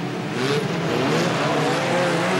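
A BriSCA Formula 1 stock car slides down the home straight at Boston, engine roaring steadily with tyre scrub and a rising whine, loud and continuous throughout the short stretch.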